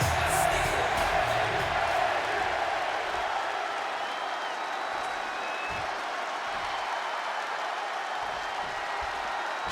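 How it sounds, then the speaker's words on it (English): Arena crowd in Chicago for a WWE 2K26 wrestling match, a steady wash of cheering and applause that stays loud and continuous throughout, with faint crowd voices mixed in. "just listen to this crowd here in Chicago"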